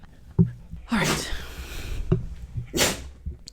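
Two sharp, loud sneezes follow each other a couple of seconds apart, each with a quick intake before the burst, indoors with no talking.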